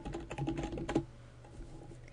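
Fingers type on a computer keyboard in a quick, close burst of clicky keystrokes for about a second, followed by a few scattered, quieter taps.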